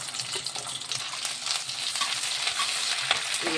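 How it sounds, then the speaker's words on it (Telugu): Ginger garlic paste sizzles and spits in hot oil left over from frying eggs for egg pachadi, a continuous crackling fry with light stirring scrapes, close and fairly loud. "ఎగ్ ఫ్రై చేశాను కదా, అదే ఆయిల్లో వేసి ఫ్రై చేస్తాను."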